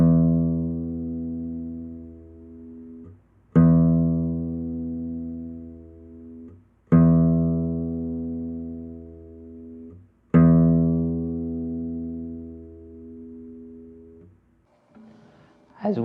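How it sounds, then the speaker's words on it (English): Guitar string plucked with the rest stroke technique, four separate sustained notes each ringing and slowly decaying before the next pluck, close and clear with no talking. "the rest stroke technique creates a more concentrated sound than the free stroke"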